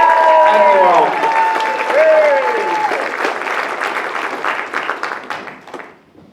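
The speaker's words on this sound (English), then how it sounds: "Big round of applause, Ray Strom, everybody." A crowd at a UCP town hall applauds for Ray Strom, with a tonal voice or sound in the first seconds, then a full burst of clapping that thins out and fades away.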